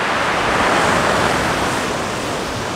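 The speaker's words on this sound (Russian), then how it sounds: "Пускай говорит море" Black Sea waves wash steadily onto the shore at Adler near Sochi, a loud, continuous rushing surf with some wind buffeting the microphone and no voices.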